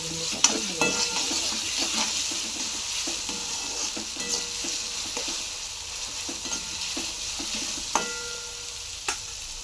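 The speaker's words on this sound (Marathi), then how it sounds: "आता इथं आपलं मिरची कांदा सगळं चांगलं भाजून घेतलेलं आहे, चांगलं फ्राय झालेलं आहे." Chopped onion and green chilli frying and being stirred in a pan, a continuous soft sizzle with scattered scraping clicks of the spoon against the pan, close and fairly quiet, no talking.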